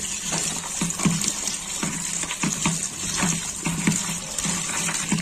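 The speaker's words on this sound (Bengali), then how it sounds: "এবার কলটা চালিয়ে দিই। ফুলগুলো এইভাবে ধুয়ে নেব।" Running tap water splashes steadily, with irregular bursts and spatters as drumstick flowers are rinsed under the stream.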